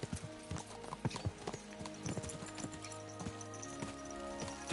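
Horse hooves clip-clop in a steady, fast galloping rhythm in the medieval video game Kingdom Come Deliverance 2, loud and close over a busy game soundscape.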